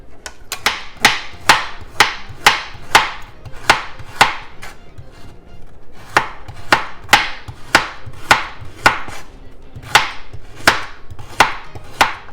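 A knife chops carrot on a cutting board in a home kitchen, a steady run of sharp, loud, evenly spaced thwacks close up with short pauses, no talking.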